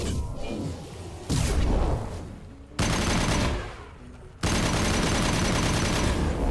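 Heavy high-impact gunshots in Mass Effect LE2, several big booming blasts, each hitting hard and then trailing off in a rumbling decay, loud and close, with little talk over them.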